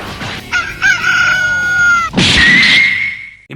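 A rooster crows loudly and close, a long drawn-out cock-a-doodle-doo with a rising, straining call, among chickens, with no talking.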